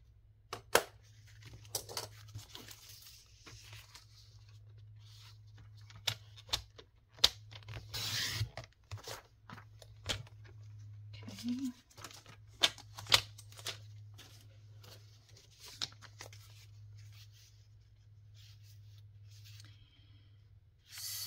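Scissors cut through paper while building an ephemera flip, producing close, quiet snips and crisp rustles that come in irregular bursts with pauses between them.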